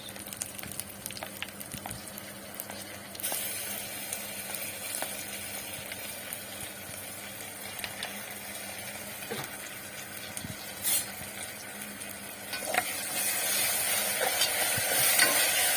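Curry leaves, cashews and ginger-garlic paste frying in a pan for chicken biryani, a steady soft sizzle with occasional stirring scrapes, growing a little louder toward the end, with no talk.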